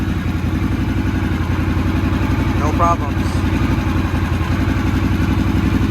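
A Harley-Davidson Sportster S engine idles steadily up close with its exhaust baffle fitted, a loud, even rumble with a short spoken remark over it.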